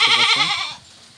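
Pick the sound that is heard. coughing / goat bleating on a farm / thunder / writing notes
goat bleating on a farm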